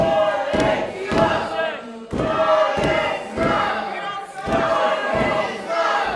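A wrestling event crowd cheers and roars in a live arena, swelling in repeated waves with thuds between them, loud and continuous.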